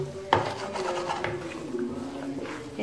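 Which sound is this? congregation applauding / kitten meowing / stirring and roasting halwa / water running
stirring and roasting halwa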